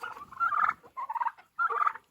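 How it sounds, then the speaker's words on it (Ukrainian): A white turkey gobbles in three close, rapid bursts, loud and near, with brief gaps between each rattling call and no other sound. "Белый вот этот индюк."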